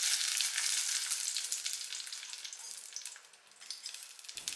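Sugar for a Jamaican tamarind sauce caramelizing in a pan, giving a steady close hiss and fine sizzle that eases off toward the end.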